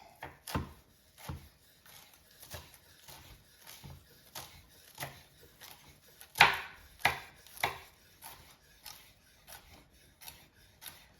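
Steady rhythmic knife strokes chop through a folded bunch of fresh parsley on a cutting board, a series of crisp, close taps at an even pace, fairly quiet throughout.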